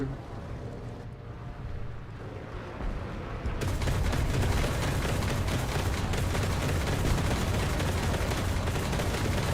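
Artillery and cannon fire from a War Thunder tank battle, a dense, sustained rumble of distant blasts that swells louder partway through and keeps up steadily.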